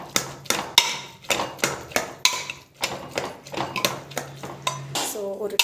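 Cabbage poriyal being stirred in a cooking pot, with a steady run of clinks and scrapes as the spoon strikes the metal, close and fairly loud, and a faint voice now and then.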